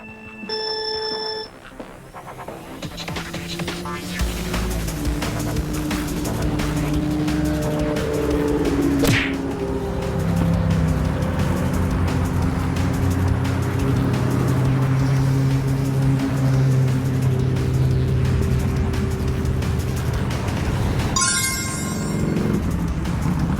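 Cars racing in a video game, a continuous engine drone with shifting revving tones and a few sharp electronic beeps, loud and steady throughout.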